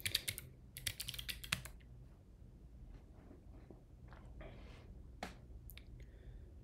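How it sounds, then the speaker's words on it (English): Keys clatter on a Voyager computer keyboard in quick, close bursts of typing, then sparser single clicks and short runs follow in a quiet room. "My keyboard is a Voyager."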